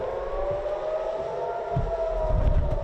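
Civil defense sirens blare across the United States in a loud, sustained, steady wail that holds its pitch, with low rumbling traffic noise underneath and no talking.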